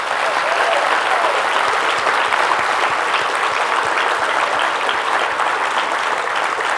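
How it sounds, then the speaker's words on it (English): A conference audience breaks into a sustained round of applause during closing remarks, thick continuous clapping from many hands, loud and close throughout. "So a round of applause to all of them"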